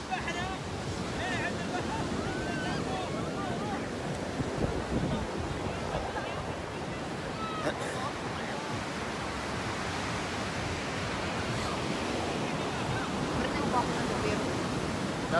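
Serious ocean waves breaking on the shore in a continuous broad wash of surf and wind noise, fairly loud and unbroken across the whole stretch, with no clear individual crashes standing out.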